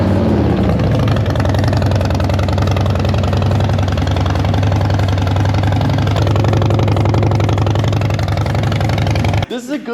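Harley motorcycle engine idling cold, a loud, steady, close rumble with a lumpy rhythmic beat throughout, a voice talking over it before it cuts off at the end.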